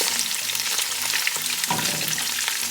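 Onion frying in oil for fried rice, a steady, dense sizzle and crackle that stays close and loud throughout, with faint low clatter underneath and no talking.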